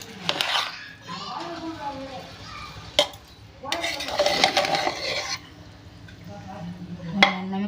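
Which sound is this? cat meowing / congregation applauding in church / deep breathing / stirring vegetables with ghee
stirring vegetables with ghee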